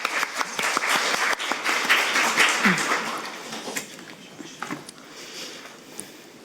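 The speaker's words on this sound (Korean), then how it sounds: "박수 한번 부탁드립니다." Scattered clapping from an audience at an emergency medical policy forum, fairly close, tapering off toward the end as a few hands keep patting.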